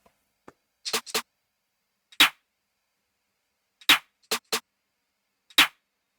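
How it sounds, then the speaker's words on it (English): A J Cactus Bright support snare from a trap beat plays as crisp, isolated hits, about eight of them spaced unevenly over near silence. "Then I also play these J Cactus Bright snare,"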